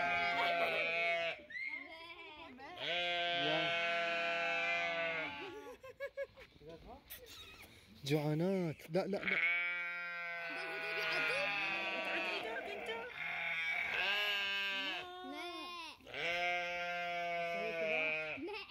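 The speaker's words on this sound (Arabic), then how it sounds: "هو غنم يصيح" Sheep at the Edmonton Zoo in Canada bleat loudly and repeatedly, long wavering cries overlapping in close succession while people talk nearby.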